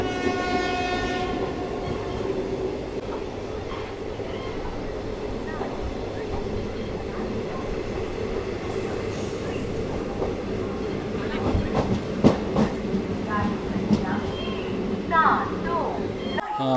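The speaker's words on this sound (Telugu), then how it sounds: "మనమైతే ఇప్పుడు బంగారుపేట స్టేషన్లోకి అయితే ఎంటర్ అవుతామండి." An express train, the Narasapur to SMVT Bengaluru weekly express, rolls into Bangarapet junction station with a loud horn at first, then a steady rumble and rhythmic wheel clatter, with a voice talking over it.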